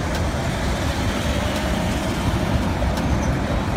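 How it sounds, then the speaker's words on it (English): Monorail train on a single elevated rail, a steady broadband rolling rumble with faint metallic ticks, heard nearby and alone. "Monorail train."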